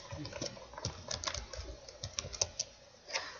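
Light, quick keyboard typing taps along unevenly in close, quiet bursts, with no voices.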